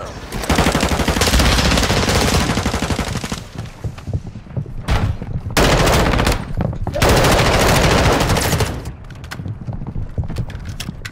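Heavy automatic gunfire in Call of Duty Warzone on Ashika Island, loud sustained bursts of rapid shots with short gaps between them, close and dominating.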